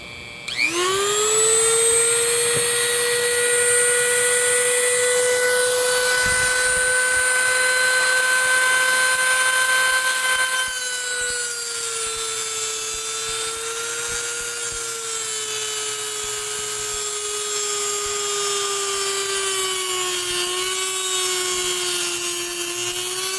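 Drill cutting through very hard steel while fitting a Coleman B200rsv handlebar riser, a continuous high whine that rises as it bites and then holds steady, close and loud, with a slight dip in pitch partway through.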